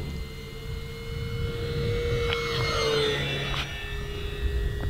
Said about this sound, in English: Let me fly by again on a 3S battery